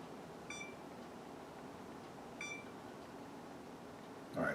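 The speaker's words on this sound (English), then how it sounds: "Set the timer" Kitchen oven timer being set while roasting shrimp: two short electronic beeps about two seconds apart, fairly quiet over room hum, followed by a brief louder clatter at the end.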